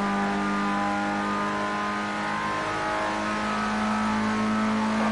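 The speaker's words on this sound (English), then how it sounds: "As soon as I hear that engine screaming" A formula race car engine in Project Cars 2 screams at high revs during an Asia Championship race, a loud, steady, tonal whine that holds without a break.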